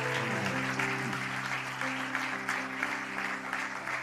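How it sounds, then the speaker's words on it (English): A church congregation at a Sunday morning service claps steadily and continuously, the applause underlaid by a sustained organ or keyboard chord. "I want to give those sisters a hand clap."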